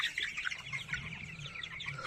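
Tiger chickens on a farm cluck and chatter in a busy flock, several birds calling at once, fairly close and continuous with no talking.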